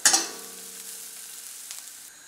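Garlic browning in a hot pan for a carbonara sauce: a quick burst of sizzling that settles into a steady, soft frying hiss, with no voices.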